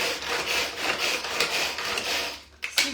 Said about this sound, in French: plus vous allez tirer sur la ficelle, plus ça va hacher finalement votre préparation